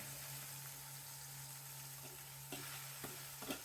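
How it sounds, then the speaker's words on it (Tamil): Small onions frying in hot oil with a pinch of asafoetida in a home kitchen: a quiet, even sizzle runs throughout under a steady low hum, with a few light clinks of stirring near the end. "இப்போ வெங்காயம் போடுறோம்"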